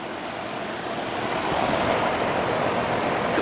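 Condensation water pours in a steady, broad splashing rush from the white drain line of a 12-year-old home air-conditioning pump, growing slightly louder partway through.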